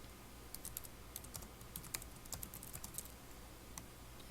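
Quiet, close clicking of keys on a computer keyboard, irregular bursts of keystrokes spread through the moment with no voices.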